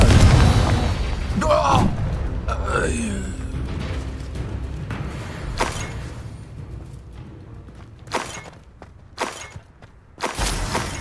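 A Confringo fire-blast spell explodes in the Hogwarts Legacy game, a loud booming burst with shattering debris up front, then scattered thuds and pops trailing off behind talk.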